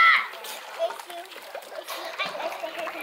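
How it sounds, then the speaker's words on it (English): Someone jumps off a board into water, making a short splash near the start, followed by a brief watery spatter and sloshing under background voices of children and adults. "The dog's just waiting for the splash."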